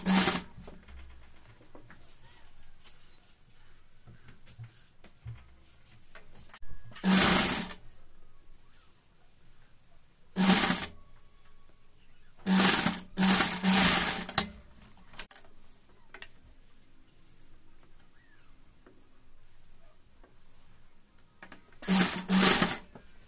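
A sewing machine stitches a newborn baby cap in several loud, whirring runs of a second or two each, separated by long quiet pauses with faint handling noise.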